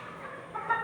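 Fayoumi and local hens kept for eggs in a poultry house, a brief, close clucking call lasting under a second, alone without talk.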